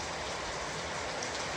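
Rain falls steadily on potted garden plants, making a continuous, dense hiss of drops that stays even throughout.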